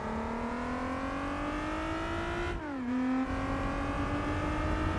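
A Pagani Zonda race car in Gran Turismo 4 revs its engine loud and close with a smooth rising whine. Pitch drops briefly at a gear shift, then climbs again steadily.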